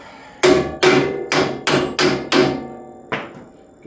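Six sharp hammer blows land in a steady rhythm on an axle part at the hub of a Lotus during a suspension fit-up, then a softer seventh tap follows after a pause, all loud, close and ringing.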